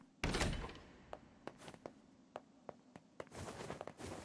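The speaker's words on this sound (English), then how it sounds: "One more door." A door opening in the video game NieR Replicant: a sharp heavy thunk, then a string of spaced clicks and thuds, ending in a longer scraping rumble.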